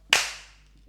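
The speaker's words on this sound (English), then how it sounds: "Start the show. Sound clap." A single sharp hand clap to sync sound at the start of a podcast recording, close and loud, with a quick ringing decay into a quiet room.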